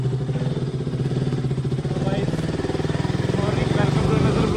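A motorcycle engine runs with a steady throbbing rhythm, rising slightly in pace, with rushing wind noise over it, near Jammu.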